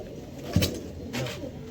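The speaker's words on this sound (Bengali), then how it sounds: "দেখো পায়রাটা দেখো" Desi pigeons offered for sale coo close by, two short low coos about half a second apart, with faint background noise and no talking.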